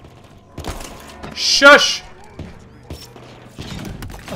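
A sniper rifle shot in the sci-fi shooter Halo Infinite rings out as one loud blast with a falling whine, set among other game noises, while a voice briefly speaks.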